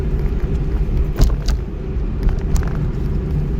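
Steady low rumble of a car engine inside the cabin as the clutch is let out and the car pulls away during a driving lesson, loud and continuous with a few faint clicks and no talk.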